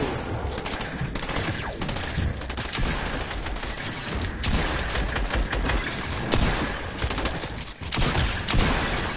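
Continuous dense gunfire in a video game, loud overlapping bursts and rattling shots filling the whole stretch without a break.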